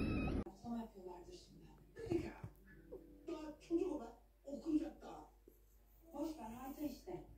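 Kittens in a street cat nest meowing repeatedly, several thin close cries in irregular bursts, with people talking nearby.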